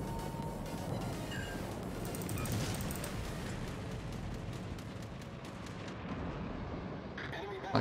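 Naval guns fire at an enemy ship in World of Warships, the cruiser Belfast in a tier 9 match: deep, heavy booms roll continuously over a dense, rumbling battle din, with sharper cracks and splashes scattered throughout.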